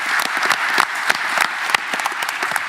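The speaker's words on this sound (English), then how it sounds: "So just round of applause for Josh Taylor." Audience applause at a boxing press conference for Josh Taylor versus Ekow Essuman, a brisk burst of many hands clapping in a dense, even patter at moderate loudness.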